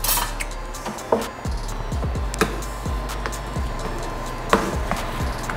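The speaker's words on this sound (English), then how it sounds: "So we just need to stir it up a little bit more. I'm gonna take a spoon this time." A spoon stirs a thick pot of shrimp and grits, giving a run of scraping, knocking strokes against the pot at an irregular pace, close and fairly loud over a steady low background hum.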